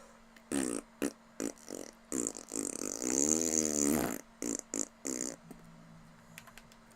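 A person blows a series of mouth-made fart imitations, short sputtering bursts followed by one long, wavering raspy buzz, then a few more brief pops, close and fairly loud.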